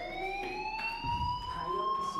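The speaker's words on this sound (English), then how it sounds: "Hey, do you hear that fire alarm?" A fire alarm rings in the game Life Is Strange, a steady electronic tone with stacked harmonics sounding continuously and fairly loud, with a brief low thump partway through.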